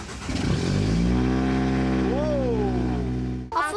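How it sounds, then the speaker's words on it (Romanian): A car engine starts and settles into a steady, loud idle hum close by, holding for about three seconds before a brief change at the end. "Cum apăsăm start până pornește motorul?"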